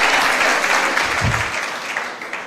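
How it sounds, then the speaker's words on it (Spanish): A church congregation applauds God with enthusiasm, a dense, steady wash of clapping that fades slightly toward the end, with a brief low thump partway through. "si va a aplaudir a Dios, dele con ganas"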